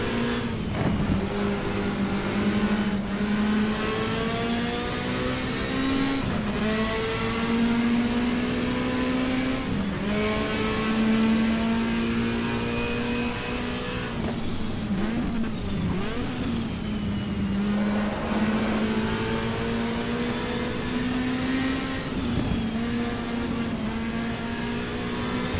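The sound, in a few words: race car engine in GTR2 racing video game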